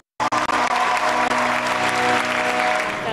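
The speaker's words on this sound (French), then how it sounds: "Pendant 2 heures, le public a applaudi" An audience applauds an amateur theatre troupe's stage show, dense, sustained clapping starting abruptly after a brief silence and holding steady and loud throughout.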